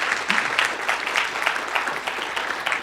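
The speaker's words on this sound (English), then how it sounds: "please give a warm round of applause for Dr." Applause from the audience at a Holocaust history lecture welcoming a speaker: steady, warm clapping from a moderately sized crowd, close and continuous throughout.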